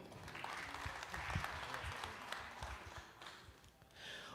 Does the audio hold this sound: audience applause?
yes